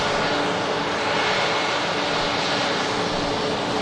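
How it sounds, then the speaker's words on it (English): A Jet2 jet airliner taxis at Manchester Airport, its engines giving off a loud, steady roaring whine that holds constant and close with no speech over it. "the Jet2 now continuing the taxi."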